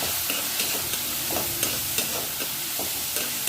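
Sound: sautéing masala with ginger and garlic in pan

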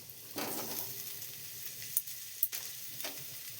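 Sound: potatoes frying in oil

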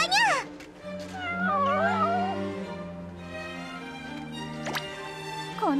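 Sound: cat meowing in Princess Connect Re:Dive video game

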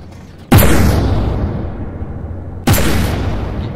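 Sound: another cannon firing in video game From The Depths

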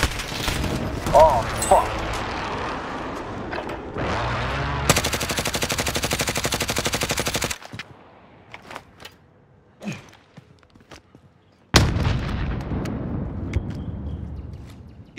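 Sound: gunfire in a video game

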